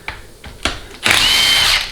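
Power tool spinning out stubborn, over-torqued bolts on a 4L60E automatic transmission case, a few short taps followed by a steady, loud whirring burst close by.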